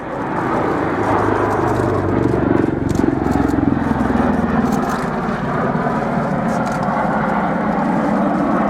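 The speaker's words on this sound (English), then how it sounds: "One of the things that strikes you while watching the Osprey fly is how quiet it is" A V-22 Osprey tiltrotor aircraft flies during the RIAT airshow, its steady, broad rotor and engine roar holding at a fairly loud, even level throughout with no talk over it.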